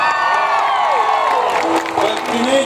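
A concert crowd in Northeast India cheers and applauds loudly, with whoops, shouts and sustained clapping blending into a dense roar that holds steady throughout.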